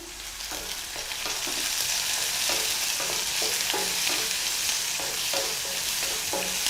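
Onions sauté in hot oil in a pan, a steady close sizzle broken by a regular rhythm of spatula scrapes and taps as they are stirred, with no talking.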